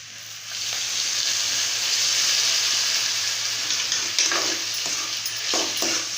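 Poori masala gets stirred in a pan on the stove after water is poured in, a continuous loud sizzle and bubbling hiss with a few scraping strokes of the spoon toward the end.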